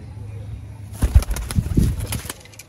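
A burst of wing flapping as pigeons take off nearby, with soft cooing mixed in against a low background hum.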